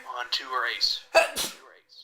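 A person sneezes once, sharp and close, in the middle of casual talk during a PC Card Sharks game session, with speech before and after the burst.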